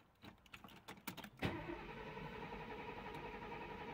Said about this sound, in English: I'll try a start without touching the throttle